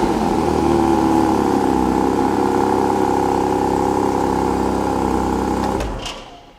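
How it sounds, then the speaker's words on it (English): A Porsche engine revs hard and steadily close by, a loud sustained roar that cuts off abruptly near the end and fades out. "One of the things on this Porsche is how quickly it can rev up."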